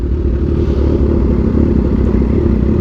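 Kawasaki Ninja H2 motorcycle being ridden: a loud, close, steady engine drone with rumbling wind noise throughout and no talking.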